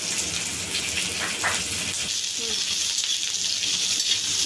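Grated coconut roasts in a little oil in a pan for a fish curry, giving a steady, close sizzling hiss that runs evenly throughout with a few faint clinks and no talk.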